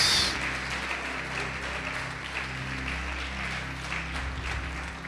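Church congregation applauding a sermon, a dense burst of clapping that starts loud and fades over a few seconds to a softer patter, with a low organ or keyboard hum underneath.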